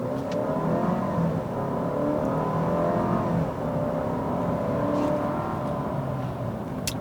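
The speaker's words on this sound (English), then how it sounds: "let's see how this 9-speed automatic feels when I floor it" A 2019 Jeep Cherokee Trailhawk with the turbocharged 2.0-litre engine and nine-speed automatic pulls hard at full throttle, its engine note climbing steadily and shifting through gears in a continuous interior drone, with no talking.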